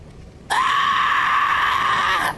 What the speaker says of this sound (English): And Bill's small diagonal crack across his blade begins to screech.